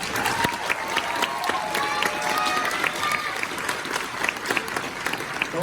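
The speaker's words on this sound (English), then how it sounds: "And please clap for them again." Audience applause at a high school symphonic band Christmas concert, a lively mix of distinct claps and scattered cheers, moderately loud and steady throughout.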